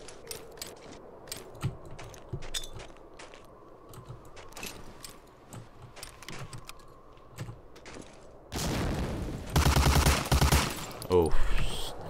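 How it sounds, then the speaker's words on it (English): A machine gun fires in the video game Medal of Honor: Allied Assault. Scattered single shots and clicks come first, then a loud, dense burst of rapid automatic fire takes over for the last few seconds. "there's a machine gun in there"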